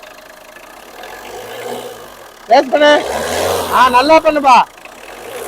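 A Tata Indica car engine idles, then revs up twice in quick surges that rise and fall, loud and close, while someone speaks nearby.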